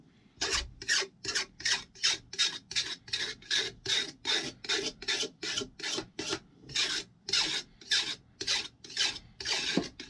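Steady back-and-forth strokes of a file rasp burrs off the edge of a chainsaw bar. About twenty crisp, even strokes come close to the mic over a quiet background.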